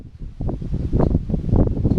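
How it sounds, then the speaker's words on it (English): Gusty wind on a hilltop buffets the microphone in low, rumbling waves, loud and close, with no other clear sounds. "it's always windy on top of this hill"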